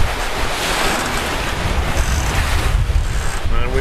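A sailing catamaran on a beam reach at about 7 knots in roughly 10 knots of wind, with steady broadband rush of water along the hulls and wind buffeting the microphone throughout, continuous and fairly loud.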